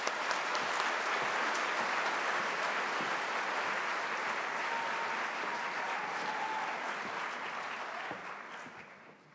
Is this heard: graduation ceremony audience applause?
yes